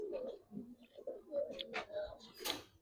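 Giribaz pigeons give soft, throaty coos in short repeated bursts, close by, with someone talking over them in Bengali.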